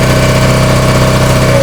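A Honda P40 engine runs at max RPM on a trailer-mounted pressure washer and soft wash system. It makes a loud, steady, close drone with an even, throbbing vibration throughout.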